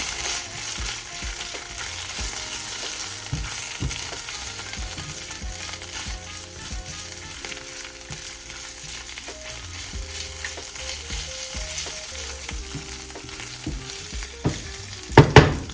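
Mustard sizzling in a one-pan Tuscan chicken dish, a loud continuous crackling fry close by with a low hum underneath and a couple of sharp clanks near the end.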